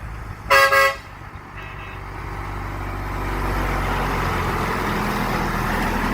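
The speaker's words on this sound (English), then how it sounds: "Honk when you come by." A loud truck horn blasts once, briefly, followed by the rising rumble of the vehicle passing nearby.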